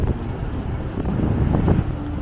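Wind gusting across an open, deserted long beach, a steady broadband roar with buffeting on the microphone, no voices.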